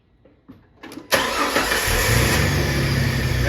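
A car engine cranks briefly after a few soft clicks, then catches and settles into a loud, steady idle close by, with no talking.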